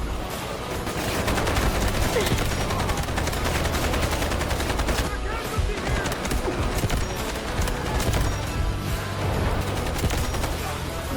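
Rifle fire from a long-range marksman weapon in the shooter game Delta Force, with dense, loud volleys of rapid shots cracking continuously across the clip amid battlefield noise.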